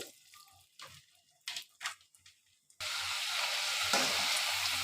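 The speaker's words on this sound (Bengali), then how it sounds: "আর আলুগুলো ঠান্ডা হয়ে গেছে, আমি আবারও ভেজে নিচ্ছি।" Cold, once-fried potato sticks go back into hot oil for a second fry: after a few quiet knocks and handling sounds, a sudden loud, dense sizzle erupts and holds steady, close by.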